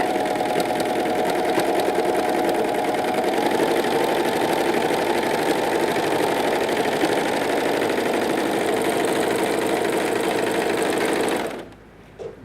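A Pfaff Coverlock 3.0 overlocker stitches a chain and overlock seam onto a fabric piece set up like a trouser leg or sleeve, running as a loud, steady, fast mechanical whir that stops abruptly near the end.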